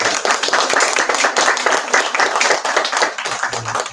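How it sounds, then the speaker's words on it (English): Bookstore audience clapping for a science-fiction author's event, close, brisk handclaps in a lively sustained round from a modest crowd, no talking over it. "let's have another round of applause for our fantastic"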